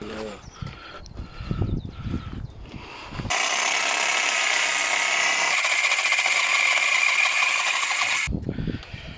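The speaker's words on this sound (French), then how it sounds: "On coupe là, à ras, et on met un cliquet." A ratchet wrench works on the exhaust of a 1996 Honda Civic EK3, giving a dense, steady burst of rapid metallic ratcheting for about five seconds, with someone talking before and after.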